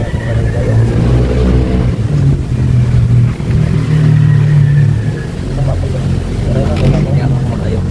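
A Rusi Sigma 250 motorcycle engine rumbles and revs nearby, rising and falling in loud surges, while people talk over the noise.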